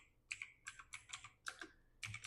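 Quick bursts of typing on a computer keyboard while entering SQL code, about six short clusters of crisp key clicks in a loose rhythm, close and fairly quiet.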